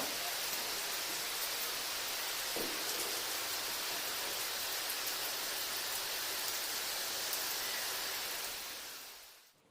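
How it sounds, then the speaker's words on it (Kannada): Dense, steady rain pours down in Bangalore in a constant hiss, loud and unbroken, then fades out at the end. "ಎಷ್ಟೊಂದು ಜೋರು ಮಳೆ ಬರ್ತಿದೆ ನೋಡಿ, ಸಖತ್ ಜೋರು ಮಳೆ ಬರ್ತಿದೆ ಇಲ್ಲಿ"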